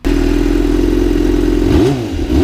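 A fuel-injected Yamaha FZ6 Fazer motorcycle idles loud and close with a raspy exhaust, then gives a single short rev that rises and falls back.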